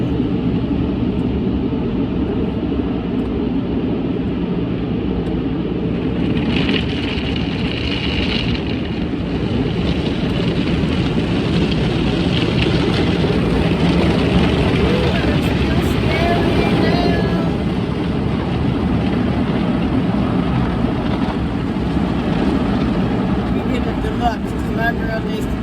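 Automatic car wash with colored soap lights running all around a car, heard from inside as a steady, loud, broadband rush and rumble of sprays and brushes that lasts the whole stretch with slight swells.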